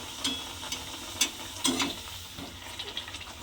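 Puri frying in hot oil, a soft, steady sizzle with scattered crackles and a few louder spoon scrapes, close and moderately quiet.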